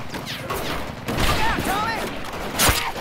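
Bursts of gunfire in the Medal of Honor video game, with rapid shots and a sharp blast near the end, heard under excited speech from a player.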